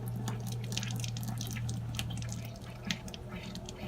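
An opened sink faucet drains water while the plumbing is winterized, giving a soft, steady trickle with scattered drips, close by and faint under a low hum, with no talking.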